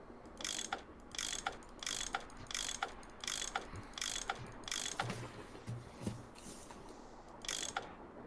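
Mechanical bolts turning in a Nancy Drew puzzle game sound as a steady series of sharp ratcheting clicks, about one or two per second, with a soft background hum.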